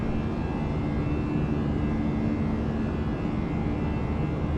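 Airliner engines in Microsoft Flight Simulator 2020 roar during a departure climb, a steady broadband rumble with a faint constant whine and no voices.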